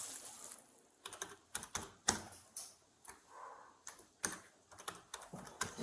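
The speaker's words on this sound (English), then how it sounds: "you gotta stop typing. You're gonna hurt your fingers." Rapid, irregular clatter of keys on a computer keyboard, close and distinct, in short bursts with brief pauses and no talking.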